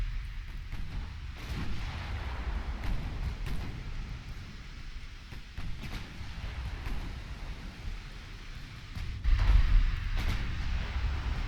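Battleship guns firing in Ultimate Admiral Dreadnoughts, a Scharnhorst engaging the King George V: repeated sharp booming salvos over a constant rumbling bed, with a heavier cluster of blasts near the end.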